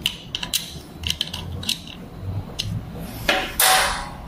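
Metal tool tightening a part on a vacuum pump during maintenance, a run of sharp metallic clicks and clinks with short ratcheting bursts, ending in a louder scraping rasp, close and without talk.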